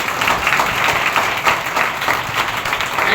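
A church audience at a Pentecostal service claps steadily and evenly, a loud dense patter of many hands that carries on without a break.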